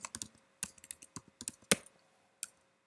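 Someone typing on a computer keyboard: a short uneven burst of crisp key clicks, close and fairly quiet, trailing off into a pause before one last tap.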